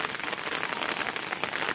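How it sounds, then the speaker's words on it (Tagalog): Rain falling in a short burst of dense, even hiss, steady and close, with no talking over it. "Ayan na, ulan."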